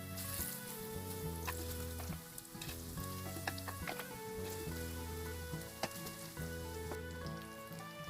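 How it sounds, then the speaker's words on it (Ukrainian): Zucchini slices fry in a pan, a continuous soft sizzle with scattered crackles and pops, while faint music plays steadily underneath. "Тепер смажу кабачки з обох боків."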